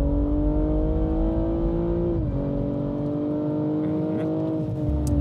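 A BMW M240i xDrive's six-cylinder engine and somewhat muffled exhaust drone at a steady, fairly loud pitch, dipping briefly midway before settling back into the same sustained tone.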